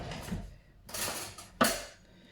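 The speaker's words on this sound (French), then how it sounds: "on prend un œuf, on va mélanger avec un peu de lait pour dorer" An egg is mixed with a little milk and some sugar in a bowl for glazing a brioche, heard as a few short clinking, scraping strokes of utensil against the dish, quiet and close.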